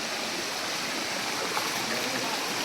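Water rushing over rocks as someone wades through a mossy, slippery stream on the way to Bhairav cave along the Narmada parikrama route; a steady, broadband splashing wash fills the whole stretch.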